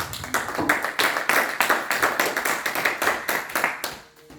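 A church congregation clapping together in praise, a dense, steady burst of many hands that continues for several seconds before fading out at the end, with faint voices underneath.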